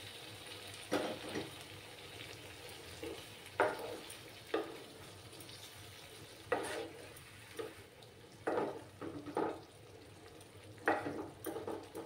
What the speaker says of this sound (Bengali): চুলার আঁচটা কিন্তু আমার কমানোই আছে, একটু সময় আমি কষিয়ে নেব।